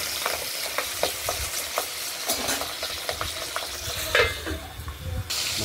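Pabda fish shallow-frying in oil in a pan, a soft steady sizzle with clicks and scrapes as the pieces are turned over, close by with no talking.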